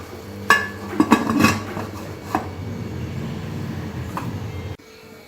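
A pressure cooker lid is closed over chicken gravy, with sharp metallic clinks and clanks as it is fitted and locked. A few knocks come close together early, then a lone clink follows before quiet.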